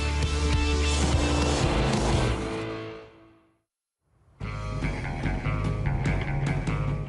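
An American car with a 440-horsepower engine roars loudly at close range during a ride, cuts out into near silence for about a second, then returns at full strength.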